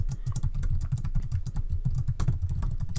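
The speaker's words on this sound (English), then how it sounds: "and start typing" Steady, rapid typing on a computer keyboard while adding notes to an AutoCAD drawing, dense clicking keystrokes close up and continuous for the whole stretch with no talking.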